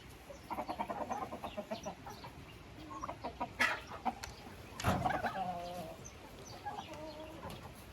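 Hens clucking softly in short, irregular bursts, with a few louder squawks, in a flock kept together with turkeys, fairly distant and quiet against a faint background hiss.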